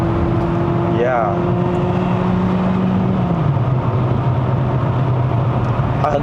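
A Mazda CX-30 High Plus Premium on a Genting hill run in Malaysia revs high, its engine note holding steady and then dropping as the revs fall, under continuous cabin and road noise while people talk throughout.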